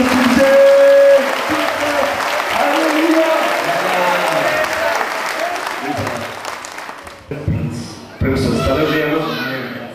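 A church congregation at a Christian healing meeting bursts into loud, sustained applause that fills the hall for the whole stretch, with voices mixed in and a brief dip near the end.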